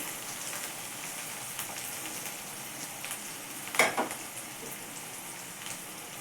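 Onion frying in a pan until golden brown, a soft even sizzle with a brief louder crackle of stirring midway, close and fairly quiet.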